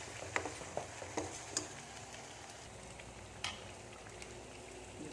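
Vallarai leaves are tempered in hot oil, giving a faint, steady frying crackle with scattered soft pops and ticks as they are stirred, and no voices.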